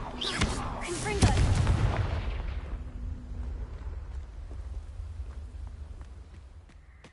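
Confringo blasting spell going off in a video game: a sharp loud blast near the start, then a rumbling low-end decay with a long tail of debris and ambience.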